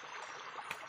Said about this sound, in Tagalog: nandito po tayo sa maliit na sapa, konti lang ang tubig